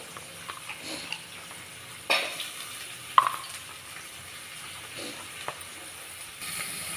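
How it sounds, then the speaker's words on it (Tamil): Onions sauté in a pan with curry leaves for an egg gravy, making a steady low sizzle punctuated by a few soft clicks and stirring knocks. "ஆனியன் நல்லா வதங்கட்டும் பொன்னிறமாக"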